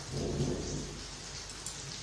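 Heavy rain falls in a steady, dense hiss, loudest at the start with a low rumble underneath, and one small sharp tap near the end.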